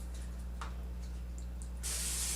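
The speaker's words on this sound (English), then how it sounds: "we're going to use some non-stick cooking spray" Non-stick cooking spray hisses from an aerosol can into a cheesecake pan in a kitchen, one sharp sustained burst near the end after quiet handling noises, close and clear.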